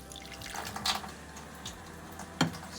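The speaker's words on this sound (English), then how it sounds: "So we just pour it over it and then just mix it in." Dipping mixture of butter, honey, garlic and herbs poured over lean salmon, heard as close, soft liquid splashes and drips with a couple of brief louder sloshes.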